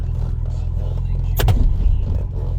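A car with no power steering idles and rolls with a steady low engine rumble, broken midway by a short sharp clunk or click and a slight rise in engine noise.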